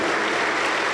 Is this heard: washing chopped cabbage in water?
no